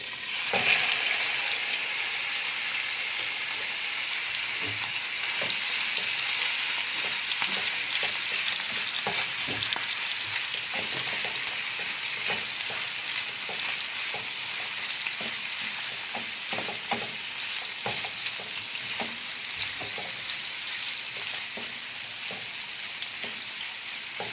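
Alexandrian sausage fries in hot fat in a pan with a dense, steady, close sizzle and crackle, and occasional stirring clicks, all without speech.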